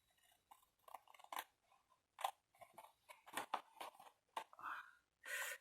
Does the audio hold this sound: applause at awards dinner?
no